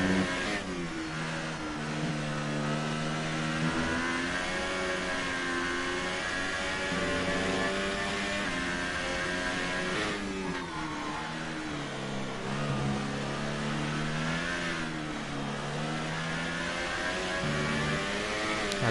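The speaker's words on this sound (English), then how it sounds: "As Gamer and Ulko are the fastest cars on track." Racing car engines in an F2 race of a racing video game, set at the Belgian GP, drone and whine steadily for the whole stretch, with pitch sweeping up and down as the cars accelerate and shift, loud and continuous with no talk.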